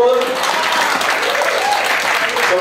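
Dense, loud audience applause with continuous even clapping from a large indoor crowd at a business presentation for Anthem Global.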